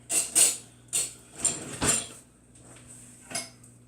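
A metal tablespoon clatters against dishes in a kitchen sink while making garlic French bread pizza dough, a handful of short sharp clinks and knocks spread over a few seconds, close by and fairly quiet.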